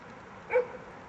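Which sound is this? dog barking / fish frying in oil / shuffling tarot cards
dog barking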